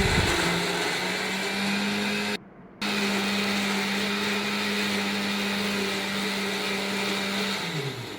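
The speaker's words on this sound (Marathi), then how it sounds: "मसाला चांगला मी मिक्सी जारमध्ये दळून घेते" Mixer grinder jar grinding roasted masala with tomato, cumin, chutney, chili powder and turmeric, a loud steady motor whine that briefly stops and restarts, then winds down at the end.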